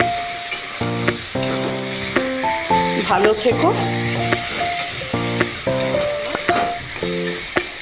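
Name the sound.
frying kalmi shak (water spinach) in a pan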